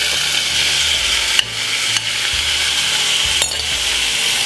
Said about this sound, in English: get the liver and scrape it in the front pan